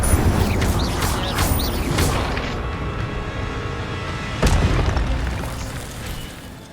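Incendio fire spell being cast in Hogwarts Legacy: a loud, dense burst of roaring game effects with crackling bursts, fading, then a second sharp booming flare near the end.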